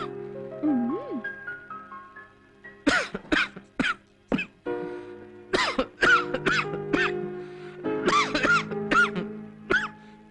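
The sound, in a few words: coughing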